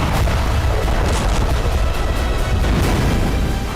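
Israeli strikes on southern Lebanon produce a continuous, loud, rumbling roar of explosions with heavy low booms and no clear gaps.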